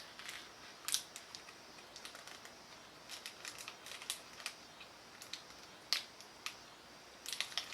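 Close crunching and crisp snapping bites into a cashew butter filled fruit and nut bar, organic, sounding in scattered sharp bursts with quiet gaps between chews and no talking.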